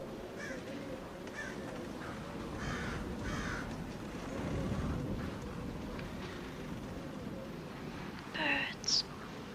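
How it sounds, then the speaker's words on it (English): Crows caw repeatedly outdoors at a moderate distance, with sharper calls near the end, while soft, murmured voices speak quietly underneath. "Birds."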